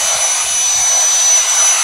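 A Dyson vacuum cleaner runs steadily while cleaning plastic debris off a desk, giving a close, loud, even whoosh of airflow with no break through the short stretch.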